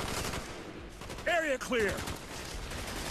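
Dense gunfire and explosions rumble through a Call of Duty: Black Ops battle, a steady broadband roar under a brief shouted call from a voice partway through.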